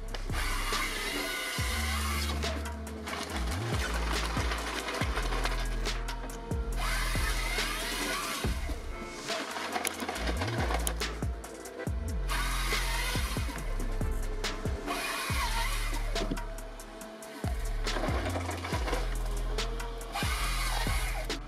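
A powerful chainsaw cuts through large trees, its engine revving and dropping in repeated loud surges as the blade bites and clears the wood, a harsh continuous buzz with a few brief lulls.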